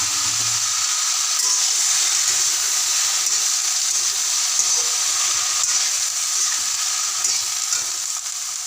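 Saag greens fry in a pan of onions cooked until reddish, giving a steady, loud broadband sizzle and hiss that runs throughout with no break and no talking.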